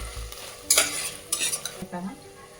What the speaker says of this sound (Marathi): त्याचा कच्चेपणा जाईपर्यंत लसण आल्याचा परतून घ्यायचं.